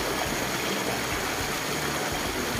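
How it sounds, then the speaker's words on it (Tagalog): A small waterfall about 15 feet tall pours among large, hard rock formations, making a steady, close rush of water with no pauses. "May waterfalls po tayo pero medyo maliit."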